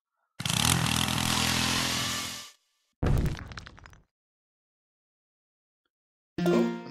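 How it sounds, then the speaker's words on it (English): A drill in a prison escape video game runs in a loud, harsh mechanical whir for about two seconds, then gives a shorter burst before a brief louder clatter near the end, with no talking. "Let's have a drill. The drill's gotta work."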